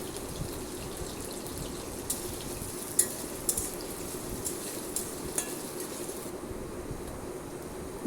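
Steady soft sizzle of okra and potatoes frying together in a pan, with occasional light clicks of a utensil, fairly quiet and continuous.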